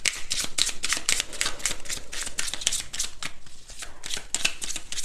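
Tarot cards being shuffled before a love reading, a quick run of crisp, papery riffling slaps in steady rhythm, close and continuous with no talk over it.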